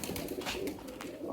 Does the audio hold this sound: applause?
no